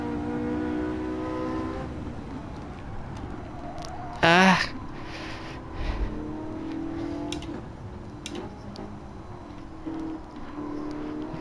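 A 2013 Porsche 918 Spyder engine drones and revs in Gran Turismo 7 at the Nürburgring, with harmonic tones rising and falling, plus a brief exclamation from a nearby voice.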